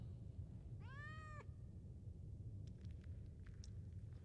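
A single clear meow from a cat in the Final Fantasy VII Remake video game rises and falls over a low rumbling background, followed by faint clicking sounds.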